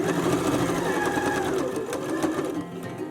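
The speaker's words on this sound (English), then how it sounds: "just use your foot as a guide and sew all the way around" Sewing machine stitching around the edge of a felt needle book, a steady close whirring hum with a rapid needle rhythm running throughout.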